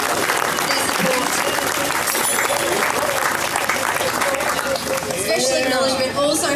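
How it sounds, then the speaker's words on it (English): Crowd applauding for sponsors at a barbecue championship in Burleigh, a steady, loud wash of clapping that continues throughout, with voices chattering faintly underneath. "Big round of applause for our sponsors."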